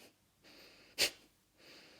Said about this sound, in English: So inhale in through the nose and exhale.